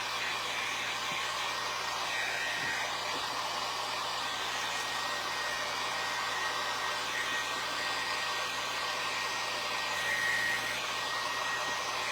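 A hair dryer blows steadily on artwork, a continuous close airy roar that stays even for the whole stretch with no talk over it.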